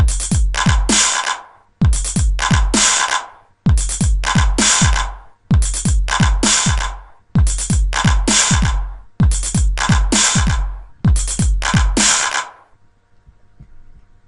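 An electronic drum loop made in FL Studio repeats seven times: deep kicks and sharp snare hits in a tight pattern, loud and punchy, then it stops.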